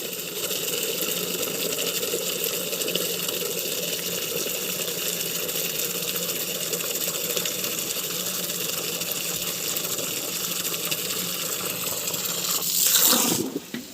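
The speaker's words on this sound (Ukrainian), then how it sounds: "Треба якось закріпити цей шланг тут щоб він нормально наливався." Water from a hose runs steadily into a container on a small rural farm at night, a continuous even gush that holds throughout and briefly swells louder near the end.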